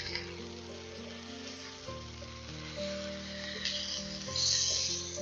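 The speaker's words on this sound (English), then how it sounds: "when the pan is nice and hot, you'll want to add in the ground beef. And then you just want to break it up and cook until it's browned" Ground beef browning in a hot pan for a stir-fry, a steady close sizzle that swells louder toward the end, with a tonal hum beneath and no talk.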